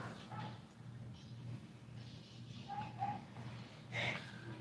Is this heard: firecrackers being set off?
no